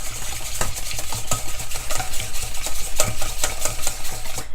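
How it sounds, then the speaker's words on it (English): An egg is whisked roughly by hand in a mixing bowl for waffle batter, with quick, steady clicking and scraping strokes repeating close up throughout. "I'm just gonna give it like a rough whisk with just my hand"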